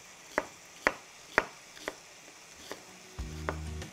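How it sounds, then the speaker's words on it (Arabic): A knife chops onion on a board in a home kitchen, about seven sharp separate thuds at an uneven pace, close and moderately loud, followed by a brief scraping shuffle at the end. "هذاك البصله اللي بقات لي تاك نروح نقطعها"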